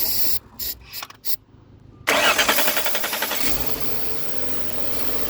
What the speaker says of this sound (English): Now it's running, but now it still shuts off.